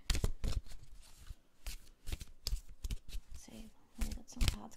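Tarot cards being shuffled by hand, a run of quick riffling and flicking bursts with short pauses, close and quiet, while a voice speaks softly now and then.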